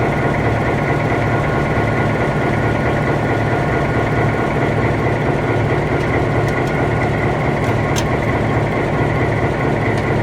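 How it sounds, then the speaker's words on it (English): Roof blowers and generator aboard a train locomotive run with a loud, steady, dense engine roar and hum that holds constant throughout, with faint higher clicks near the end. "These are the roof blowers or superchargers. And that's the generator right there."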